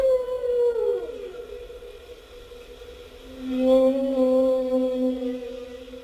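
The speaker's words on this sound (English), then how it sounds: "This example is humpback whale song," Humpback whale song: long, low moaning tones that slide downward, then a sustained lower drone with wavering upper notes, set against a faint hiss.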